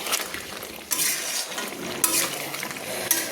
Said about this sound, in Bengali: দেখুন আমি ভালো করে নেড়ে নিচ্ছি।